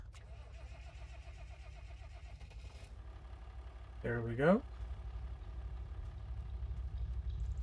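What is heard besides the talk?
tractor engine starting and idling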